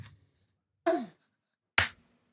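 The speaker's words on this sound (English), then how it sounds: "now there's a clap at the start of my recording" Two sharp, isolated hand claps ring out in silence, nearly a second apart, each crisp and close.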